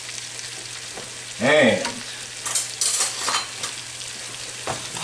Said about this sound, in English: I just let this sauce go for a little bit, saute let the garlic infuse the butter.